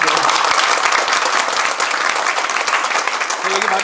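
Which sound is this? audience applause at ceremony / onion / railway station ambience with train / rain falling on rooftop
audience applause at ceremony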